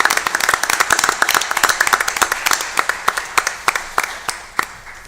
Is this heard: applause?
yes